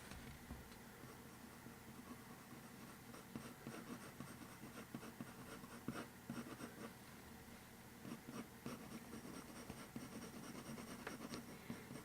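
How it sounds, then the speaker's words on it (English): Colored pencil stroking paper while a lion's mane and fur are drawn, a steady close scratchy rasp of quick short flicking strokes that runs on without pause. "at the ends of the mane, I'm just really kind of flicking the pencil out, almost like a fur line"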